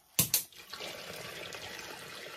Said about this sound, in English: pour some more water in here.